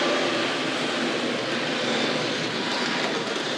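A Tri-ang R.155 BoBo switcher model locomotive's electric motor runs in a steady, continuous whir, loud and close, holding an even drone throughout with no voices.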